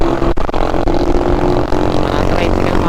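Tricycles and other motor traffic pass along a Philippine bypass road between Bicol and Manila, a steady close engine drone and rumble with a sharp knock near the start, heard alone with no talk.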